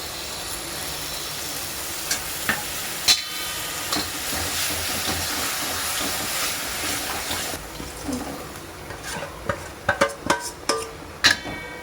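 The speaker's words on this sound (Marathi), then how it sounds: "हे सगळं परतून झालं की आपण त्याच्यामध्ये फेटलेलं दही टाकणार आहे" Potatoes for dum aloo sizzle and fry in a pan while a spoon stirs and scrapes them. The hissing is steady and close, and sharp clinks of the spoon against the pan grow more frequent toward the end.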